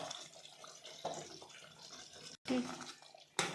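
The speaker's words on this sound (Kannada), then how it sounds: "ಈಗ ನೀರು ಹಾಕಬೇಕು" Water is poured into chicken chops masala frying in a pan, giving a close splashing, gurgling pour in short bursts, with a person talking over it.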